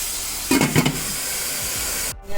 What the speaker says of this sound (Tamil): இப்போ இட்லி சட்டி தண்ணி கொதிக்குது